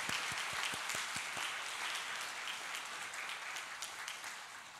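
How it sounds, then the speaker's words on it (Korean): A church congregation applauds during a Sunday service, with sustained, even clapping from a crowd at moderate distance and a few sharper claps near the start. "우리 한번 힘차게 박수 한번 해주시면 좋겠습니다"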